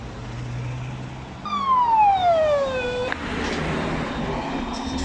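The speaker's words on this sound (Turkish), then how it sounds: "İtfaiyenin karşı taraftan sesi geliyor." A fire engine siren sounds at a scene where a car caught fire while driving, one loud wailing tone sweeping downward over a few seconds above steady background noise.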